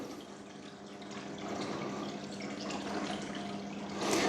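Water pumped from a bucket into an aquarium, pouring in a steady close-up rush and trickle that swells slightly toward the end, with no voices.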